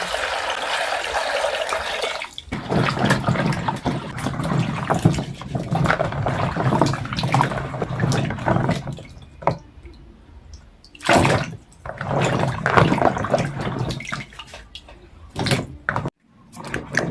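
Cassava being washed by hand under running water, with splashing, sloshing and clattering handling noises in irregular bursts, close by and fairly loud, with no talking.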